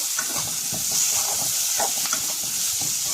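Chopped tomatoes are stirred in a hot pan, giving a steady sizzling hiss with soft repeated scraping strokes of a spoon.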